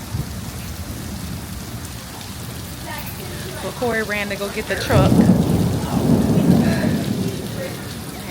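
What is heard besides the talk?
heavy rain falling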